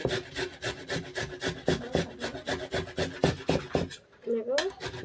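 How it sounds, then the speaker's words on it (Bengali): Rhythmic rasping strokes of Indian gooseberry (amla) rubbed against a grater at home for a hair spa remedy, repeating close up about twice per second before a short pause and a final few scrapes. "আমি প্রথমে নিয়ে নিচ্ছি আমলকিটাকে একটু ঘষে নেবো, কারণ রসটা বার করতে হবে"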